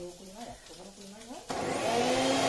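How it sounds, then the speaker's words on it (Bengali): A voice speaks briefly, then a mixer grinder blending steamed leaves switches on with a loud, steady whirring roar that continues to the end. "এবার আমি এগুলোকে একটু মিক্সচার মেশিনে বেটে নিচ্ছি।"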